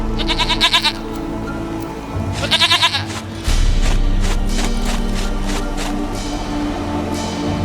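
Repeated goat bleats in The Witcher 3, two or three clear wavering calls close by, set against continuous game music and background ambience.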